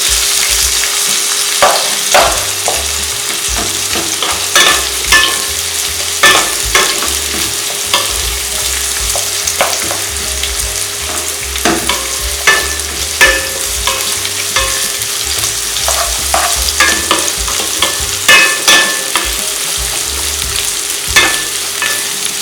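Three large sliced onions frying for a green chili chicken gravy, a loud constant sizzle close by with a spoon scraping and stirring the pan at irregular intervals throughout, no talk.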